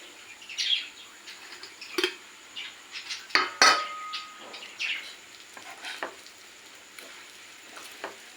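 Stuffed bitter gourds frying in a pan, soft sizzling with scattered clinks and scrapes of a spoon against the pan, close and fairly quiet with no talking.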